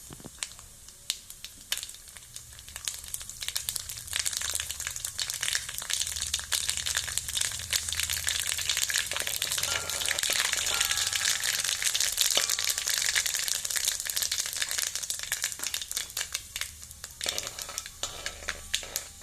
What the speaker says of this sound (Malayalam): വെളിച്ചെണ്ണ നല്ലോണം ചൂടായാൽ അതിലേക്ക് കടുക് ഇടുക.